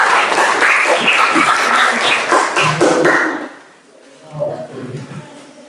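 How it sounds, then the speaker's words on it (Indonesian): Classroom applause from a group of students, loud and dense for about three seconds, then tapering off into quieter scattered clapping and talk. "Kita kasih tepuk tangan dulu dong buat teman kita."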